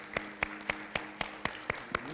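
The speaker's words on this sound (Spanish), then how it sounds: "dale este fuerte aplauso al Señor" A church congregation claps together in a steady, even beat, about four claps a second, over a soft sustained musical hum in a large room.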